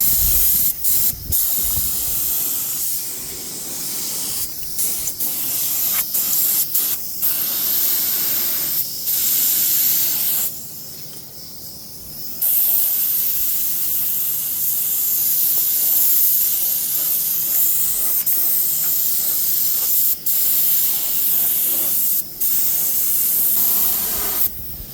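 A spray gun lays epoxy primer on a 1969 VW Bus body being restored, giving a loud, close hiss in long passes with brief pauses between strokes, one pause longer than the rest.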